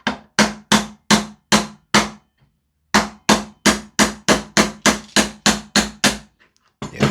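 Sharp metallic hammer taps drive out the tight rear pin of a VFC Maruyama ISO556 gas blowback rifle, about eighteen close, evenly paced strikes in two runs separated by a short pause.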